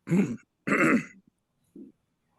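Two short, harsh coughs close by during a planning commission meeting, followed after a pause by a small throat-clearing grunt, then silence.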